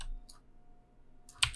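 Computer keyboard keys pressed while modelling in Maya, a few crisp clicks with a single tap early and a quick double tap at the end, close and quiet, separated by near silence.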